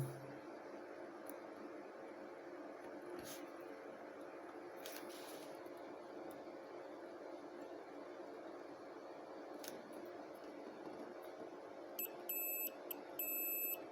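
Steady high multimeter continuity beeps from testing a transistor gate in a Q-Power MAX II 8000 sound near the end, several short tones in quick succession over a constant low hum, with a few faint clicks earlier.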